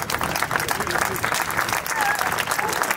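Dense, steady applause from the audience at a live cabaret show, a continuous clatter of many hands clapping at close range, with a few voices faintly beneath it.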